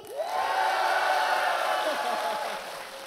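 A studio audience at a televised Korean singing show bursts into applause and cheering, a dense, steady wash of clapping and whoops that swells quickly and slowly fades, with a voice briefly heard at the start.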